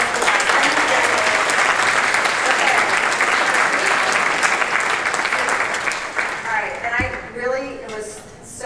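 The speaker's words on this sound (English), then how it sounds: "I would like to ask that we give the development team a huge round of applause for doing this with us." A large audience applauds after being asked to cheer a development team at a talk on building high-performing teams, loud dense clapping sustained for about seven seconds before thinning out as a voice begins speaking.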